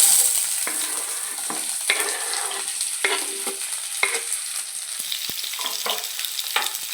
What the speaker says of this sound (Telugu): ఫస్ట్ ఆయిల్ వేడెక్కిన తర్వాత ఉల్లిపాయలు పచ్చిమిరపకాయలు వేసుకొని